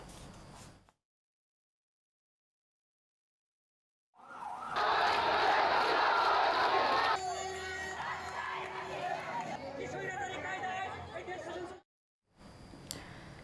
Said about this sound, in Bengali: ঢাকা আরিচা মহাসড়ক এবং ঢাকা সিলেট মহাসড়কে বিক্ষোভ মিছিল করেছে কোটা সংস্কার আন্দোলনকারীরা